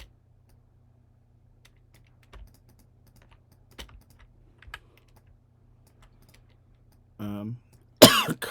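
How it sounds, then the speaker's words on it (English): A single cough breaks through near the end of otherwise quiet keyboard typing, with soft scattered keystrokes and a few louder clicks heard alone at close range. "Cough."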